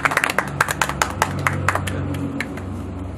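A small group claps sparsely in uneven, distinct claps that fade out after about two seconds into quiet room tone, close and loud.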